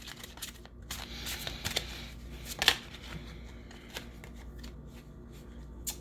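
Tarot cards being shuffled during a pick-a-card reading, a soft continuous riffle of card edges with scattered sharper flicks and one crisp snap, close and fairly quiet, no talking.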